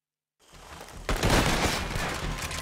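Dense, rapid gunfire in Red Dead Redemption 2 erupts after a brief silence, a loud continuous burst of shots sustained to the end.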